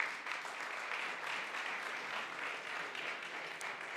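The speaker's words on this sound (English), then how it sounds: "Big applause for our host for tonight." A live audience at a startup pitch show claps for the host in a dense, sustained round of applause that holds steady throughout.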